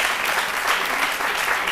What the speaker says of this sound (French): Merci beaucoup, Alissar, qu'on applaudit très fort